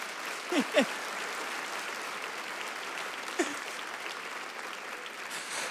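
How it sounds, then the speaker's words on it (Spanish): A church congregation applauds a pastor's son with sustained, even clapping from a crowd, while a couple of brief voice sounds rise over it early and midway. "¿Le podemos dar un aplauso a mi hijo?"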